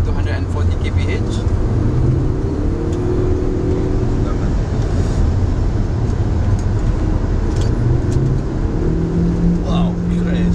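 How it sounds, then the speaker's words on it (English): A Proton car accelerating hard along a roughly 500-metre straight toward 130–140 kph, a loud steady engine and road roar filling the whole stretch with rising tonal engine notes, cabin noise constant throughout. "along this stretch, this car is capable to reach about 130 to 140 kph."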